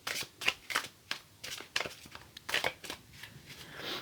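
Tarot cards shuffled by hand in a series of quick riffling bursts, each a short crisp flutter, close and clear with brief gaps between them.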